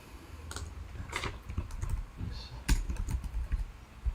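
Computer keyboard typing in short irregular bursts of soft, close key clicks and taps, fairly quiet with small gaps between flurries.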